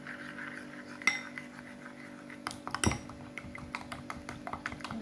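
A simple spoon clinks and taps against a bowl while mixing eggs for scrambled eggs, sparse irregular strikes and rattles up close, quiet in between.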